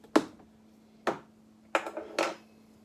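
A spoon makes four separate clinks and scrapes against a container while stirring a spoonful of an ingredient into buckwheat honey mead. The strikes are close and crisp over a quiet, faintly humming background.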